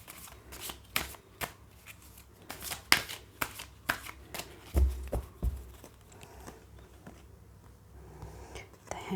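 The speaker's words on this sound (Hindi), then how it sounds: "मैं सारे कार्ड्स पहले एक एक करके सारे निकाल ले रही हूँ" Tarot cards slid and drawn from a deck one at a time, soft papery flicks and snaps spaced irregularly and close, with a few dull taps on a surface and a faint quiet voice underneath.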